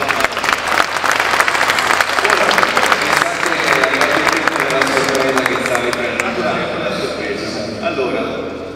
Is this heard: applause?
yes